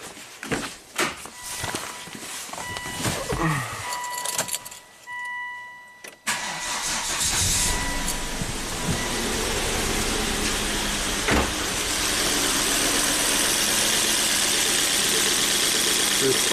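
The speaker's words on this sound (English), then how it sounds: "So let's fire it up and see what happens there." A Volvo turbo engine fitted with an in-cylinder pressure transducer cranks, catches and then settles into a steady, loud idle, with some handling noise and footsteps before it starts.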